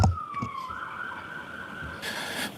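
An ambulance siren passes outside a courtroom, its wailing tone sliding down then holding steady at moderate distance, with a louder burst near the end.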